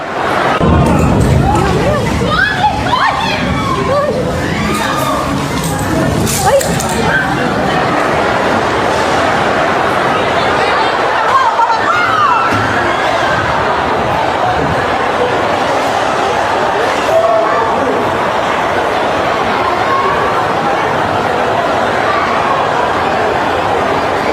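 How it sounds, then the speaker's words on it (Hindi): A panicked crowd flees a shopping mall down an escalator after an earthquake, a dense continuous hubbub of many voices close by, with shouts and a few dog-like barks rising out of the steady roar. "एस्केलेटर पर भारी भीड़ है, हर आदमी उतरकर भाग रहा है।"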